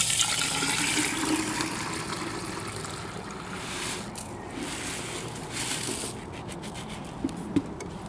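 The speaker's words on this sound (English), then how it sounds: "And go ahead and put your water in." Water pouring and splashing steadily into a brass tumbler, a continuous rushing flow with small clinks near the end.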